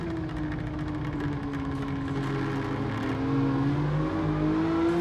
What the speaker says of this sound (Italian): senti che sound che arriva dal suo motore